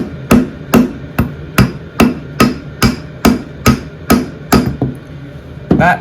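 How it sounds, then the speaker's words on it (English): Eleven sharp metallic hammer blows at a steady, even pace strike a shaft stuck in the PTO pulley housing of a Bolens garden tractor, loud and close, with a short pause before a final hit. "we're going to try and hit this through, see if that works, only gently though"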